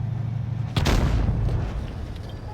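A sudden heavy boom of a tank's ammo rack exploding in World of Tanks Blitz bursts in after a low mechanical rumble, then decays into a long rolling tail; loud and close, no voices.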